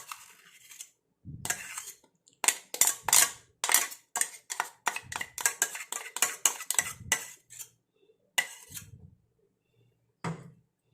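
A metal spoon scrapes and taps hair dye paste of fenugreek from a mixer grinder jar, a rapid series of sharp clinks and scrapes in irregular bursts, close and clear, with pauses between.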